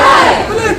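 Angry street crowd in uproar beside a police station during arson, a dense wall of shouting voices, loud and continuous throughout.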